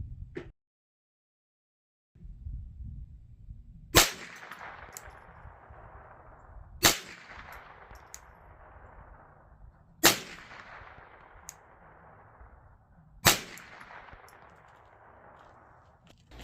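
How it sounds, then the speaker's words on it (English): A .22LR rifle with a compact 4x32 scope fires four sharp, well-spaced shots at a target about 200 yards away, each crack trailing off in a short echo over low outdoor background noise. "I took a few shots at this big white speck off to the left here, just to see how close it was or wasn't"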